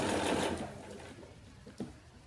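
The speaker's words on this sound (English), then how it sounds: "I'm gonna put it in my sewing machine." Close, fast whirring hum of a sewing machine stitching a quilt sampler block, strongest at the start, then tapering off, followed by a brief clack.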